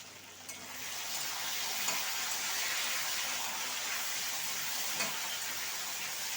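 Fish and taro stolons fry in oil under a lid, giving a steady, even hiss that runs unbroken, with a few faint clicks from the covered pan.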